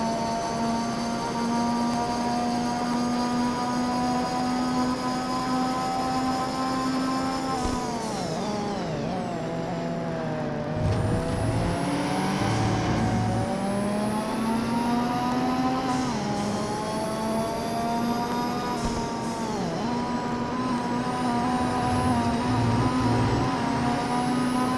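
Race cars in the PS2 game Total Immersion Racing scream along steadily, engine pitch sweeping down under braking and climbing again through gear changes, with several cars heard close together.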